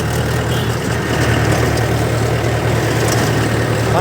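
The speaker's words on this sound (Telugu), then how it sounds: "ఇదో చూడండి, ఇక్కడ మీకు కనిపిస్తుందా, ఇదే మోటార్, సప్లైయింగ్ మోటరు" A water supply pump motor runs steadily at a mineral water plant, giving a continuous, loud low hum with a broad mechanical whir that holds even and unbroken throughout.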